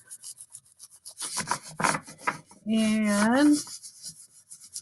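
Hands rub across the back of an ink glue print on paper in short scratchy strokes, followed by a brief squeaking rub; a single spoken word comes in midway.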